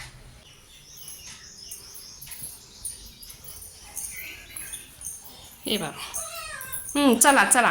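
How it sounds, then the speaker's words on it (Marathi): A few cat meows, growing louder toward the end, with a person calling out over them. "बाहेर मांजरं ओरडत आहेत"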